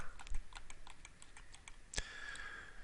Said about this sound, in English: we're going to type ground and hit enter